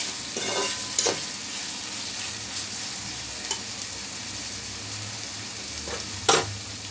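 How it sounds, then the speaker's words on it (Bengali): Whole green chilies fry in hot oil for prawn khichuri, a soft steady sizzle close by with a few sharp spoon scrapes and clinks against the pan. "চার 5টা কাঁচামরিচ দিয়ে দিচ্ছি গোটা।"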